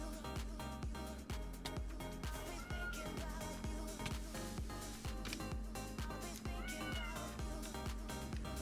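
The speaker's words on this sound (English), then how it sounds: "This is his trouble meow." Pet cat Moogle meowing insistently to be let inside, a few drawn-out meows sitting under steady rhythmic background music.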